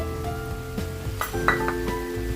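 Pumpkin sabji with grated fresh coconut and coriander being stirred in a pan, with soft scraping and clinks of a spoon against the metal over a low background hum.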